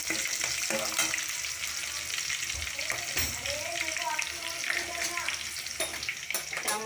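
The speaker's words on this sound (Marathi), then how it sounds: "बारीक चिरलेल्या मिरच्या, आता आपल्याला हलवून घ्यायचं" Finely chopped green chillies fry in a pan, with a constant sizzle broken by repeated scraping strokes from a spoon as they are stirred, fairly close and steady.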